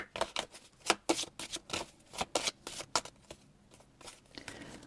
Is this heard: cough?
no